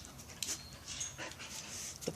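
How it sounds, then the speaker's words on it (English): Playful little puppies panting and whimpering outdoors, soft rapid breaths with faint high whines and a brief yip near the end, quiet and close. "The playful little puppies."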